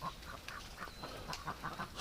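A small, dirty-looking duck quacking outdoors in winter, a run of short, repeated calls close by, fairly steady against a light background hiss.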